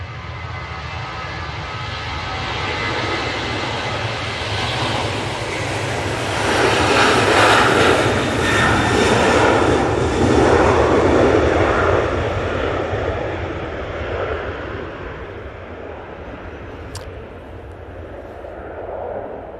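Ryanair jet airliner at Manchester Airport, a loud broadband engine roar that swells to a peak mid-way and then slowly fades, steady and continuous with no talking.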